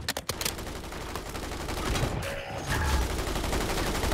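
Rapid, loud bursts of automatic gunfire in Call of Duty rattle almost continuously up close, with a brief pause before the shooting resumes more heavily.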